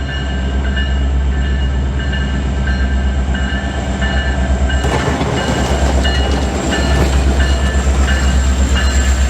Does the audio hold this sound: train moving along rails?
yes